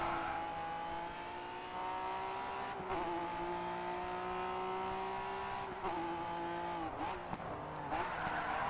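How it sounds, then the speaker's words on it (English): Tires squeal in a long, sustained howl as a car drifts through a long left-hand bend in the racing game GRID 2, the engine droning steadily beneath, with brief shifts in pitch and short breaks near the end. "This long left-hander where I pretty much control the drift"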